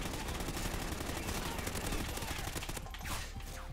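Rapid automatic gunfire from the video game Call of Duty: Ghosts, a dense continuous burst of shots heard up close during online play, easing slightly near the end.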